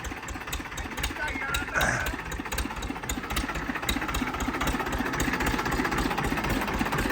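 A heavily modified tractor's engine idles steadily nearby with a low, continuous rhythmic chug, and faint talk is partly masked beneath it.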